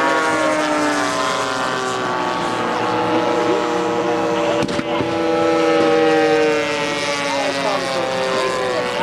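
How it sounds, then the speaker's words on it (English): A large propeller airplane flies overhead, a loud, sustained droning engine with layered harmonic hum that holds steady across the clip, with a brief sharp knock midway. "There's a big plane up there."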